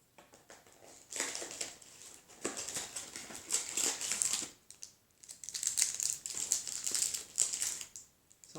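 A cereal bar wrapper is pulled open and handled, giving close, fairly quiet bursts of plastic crinkling and crackling that come and go in waves with short pauses, and no one speaks.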